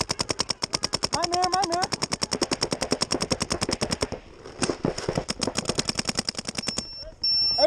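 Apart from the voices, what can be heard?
paintball guns firing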